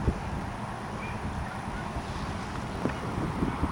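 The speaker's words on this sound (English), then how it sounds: "There's a breeze blowing out here today, as you can see." Breeze blowing outdoors by a bayou, a steady rushing wind buffeting the microphone with low rumbles and faint gusts throughout.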